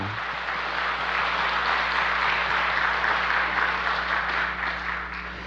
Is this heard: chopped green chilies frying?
no